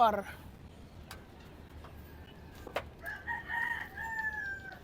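A gamefowl rooster crows at moderate distance, its drawn-out call rising and holding briefly, with a few short calls before it against a quiet outdoor background.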